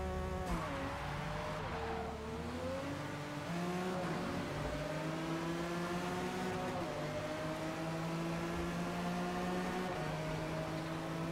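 Mercedes CLK GTR race car in Forza Motorsport, its engine droning loud and steady with smooth rising pitch through the gears and brief dips at each shift, heard alone throughout.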